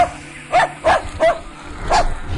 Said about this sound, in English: The little dog yapped.